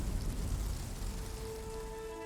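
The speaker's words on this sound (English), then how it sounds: "Just sunny a second ago, now rain." Steady rain falls over a fjord landscape, a dense broadband patter that stays fairly loud and even throughout, with faint tonal hum creeping in toward the end and no voices.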